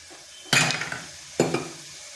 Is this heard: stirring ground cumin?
yes